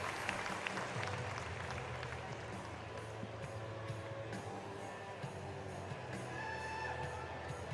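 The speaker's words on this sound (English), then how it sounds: "Big crowd here, as you see." A big crowd of nearly 8,000 applauds at an NCAA wrestling duel between Iowa and Oklahoma State, a steady wash of clapping and crowd noise with faint voices mixed in.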